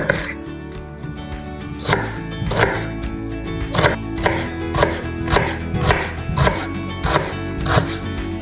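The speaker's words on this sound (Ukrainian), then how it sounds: "Нарізаємо дрібну цибулину." A knife chops an onion finely on a cutting board in a steady series of sharp, close knocks, roughly one or two per second, with no one speaking.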